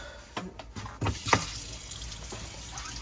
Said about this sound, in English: Got to make a switch in your tap and that'll bring the water through.